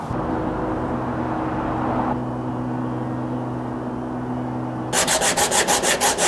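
Sandpaper rubs over glued gaps in wooden furniture built from B&Q timber: a steady, close abrasive rasp over a low hum, which turns into quick rhythmic back-and-forth strokes near the end.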